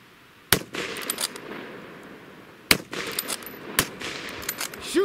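Lee Enfield SMLE rifle fired rapidly in a 1914 musketry drill: three loud, sharp cracks spaced a second or two apart, with smaller clicks and bolt-working noises between them and no talk.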